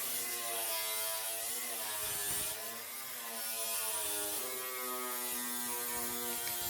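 Grinder dressing down a weld on a car quarter panel, a loud continuous high-pitched whine with steady grinding texture, briefly dipping in pitch mid-pass before rising again.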